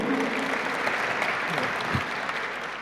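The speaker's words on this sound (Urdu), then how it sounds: "بھرپور تالی گونج میں استقبال کیجیے" A live audience at an Iqbal poetry mushaira bursts into steady, dense applause that holds throughout, with a brief louder swell near the end and no voices over it.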